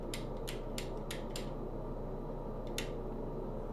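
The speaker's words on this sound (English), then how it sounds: "put it all in a nice plastic bag" Small parts from a Powr-Kraft router are packed into a plastic bag, giving several quick, faint crinkling rustles in a short burst. One more crackle follows after a brief pause.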